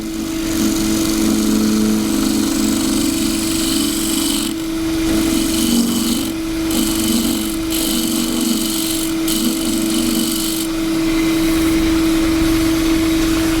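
A wood lathe spins a gidgee bowl while a tool scrapes up its side, giving a steady loud motor hum with intermittent rougher scraping passes.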